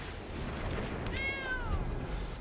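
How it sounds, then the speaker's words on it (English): A single cat meow in the Magic: The Gathering Arena video game, a short clear rising-then-falling cry over faint background. "Cat."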